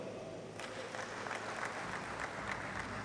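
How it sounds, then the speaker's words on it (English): A crowd at a political leadership anniversary event in Ikot Ekpene Senatorial District claps steadily, a continuous wash of applause that sounds somewhat distant and subdued throughout. "That is something to clap for."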